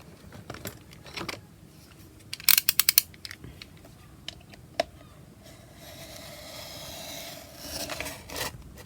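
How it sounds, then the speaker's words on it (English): Scissors cut through a cardboard file folder, giving a cluster of crisp snips and rasping slices close up, with quieter scraping and rustling between cuts. "So I'm just cutting on that line."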